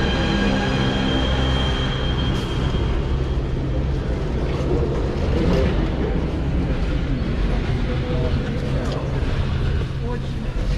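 A St Petersburg metro train runs with a loud, steady rumble and rattle of the carriage, constant throughout, with voices speaking over it.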